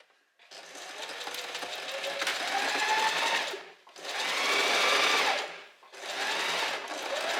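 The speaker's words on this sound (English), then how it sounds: "then we're gonna start sewing here till up here" A sewing machine stitches along the edge of a folded strap on a little black dress, whirring in three sustained runs separated by brief stops, close and steady, with no voices.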